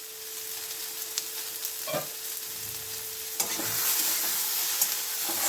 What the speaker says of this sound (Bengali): দেখুন বেগুনটাও কিন্তু ভাজা ভাজা হয়ে গেছে।